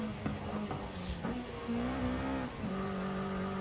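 A car engine drives in Forza Horizon 5, holding a steady, loud drone whose pitch climbs and dips with throttle and gear changes throughout.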